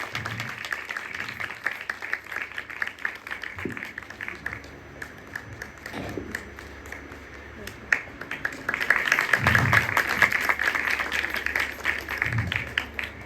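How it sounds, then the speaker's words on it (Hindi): An audience at an Indian academic lecture claps to welcome a professor. Dense, steady applause runs throughout and swells louder toward the end, with a voice speaking over it. "सभी से अनुरोध है कि तालियां बजाकर सर का स्वागत करें।"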